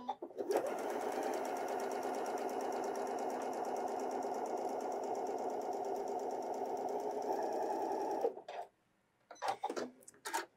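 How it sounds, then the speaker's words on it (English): A Janome sewing machine runs steadily for about eight seconds, stitching a quarter-inch seam with fabric guided along the metal guide, then stops abruptly, followed by a few brief clicks and handling sounds. "We're all going to run our fabric up against the metal guide and sew a 1/4 inch."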